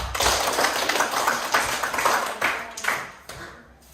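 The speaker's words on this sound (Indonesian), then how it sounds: "Oke, kita berikan aplaus untuk kelompok mereka." Classroom applause for a student group that has just presented, a scattered run of hand claps from several people, close and moderately loud, thinning out toward the end.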